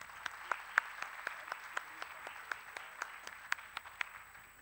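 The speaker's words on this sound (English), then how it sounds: "A huge round of applause for our chief guest." Sparse, faint clapping at a speech contest ceremony, a handful of distinct claps spaced irregularly over a quiet background, honoring the chief guest.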